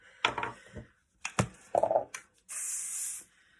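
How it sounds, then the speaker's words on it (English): A short, even hiss of Schwarzkopf Silhouette professional hairspray lasts under a second, close up, after several soft handling clicks and rustles. "A little bit of hairspray. I'm using Schwarzkopf Silhouette, which is a professional one."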